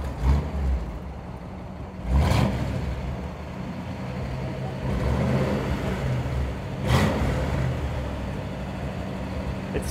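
A 1957 Ford Thunderbird engine turns over and catches, then revs up in a couple of throaty bursts before settling into a rumbling idle, close by.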